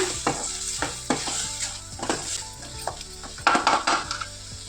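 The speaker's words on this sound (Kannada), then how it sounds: "ಸೊ ಈಗ ಚೆನ್ನಾಗಿ ಮಿಕ್ಸ್ ಮಾಡ್ಕೊಳ್ಳೋಣ." A spoon stirs and scrapes a sizzling, turmeric-spiced mixture in a pan for chicken soup, making repeated close scraping strokes over a steady frying hiss, with no talking.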